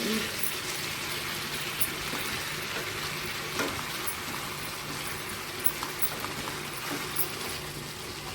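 Sweet corn being mixed with salt and chili powder in a pan gives a steady soft sizzle, with occasional light scrapes and taps of the spoon against the metal, fairly quiet.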